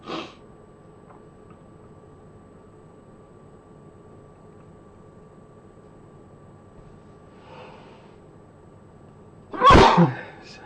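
One loud sneeze bursts out near the end after a long quiet stretch of low background hum.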